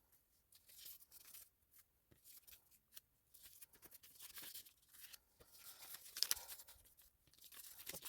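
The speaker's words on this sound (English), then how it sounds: "I'm going to cut out or tear out all of those little pictures to have the full pieces of ephemera" Glossy paper pictures are torn out of a travel catalog by hand, close and quiet, in a run of short rips, crinkles and rustles with brief pauses between pulls.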